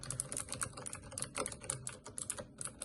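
Clicky typing on a Varmilo Moonlight V2 mechanical keyboard fitted with Cherry MX Blue switches: a fast, steady run of crisp, close keystrokes alone, with no talking.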